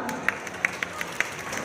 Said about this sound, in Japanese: 本当に大きな拍手ありがとうございます。